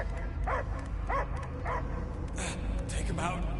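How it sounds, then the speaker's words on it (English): A dog barks and yips a few times in a video game scene, the short barks rising over a steady background of game sound and voice. "I hear only barking."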